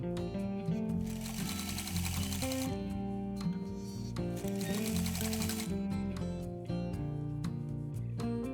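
A sewing machine running close up as it edge-stitches lined pants, with bursts of fast, even mechanical clatter at a steady rhythm over continuous background music.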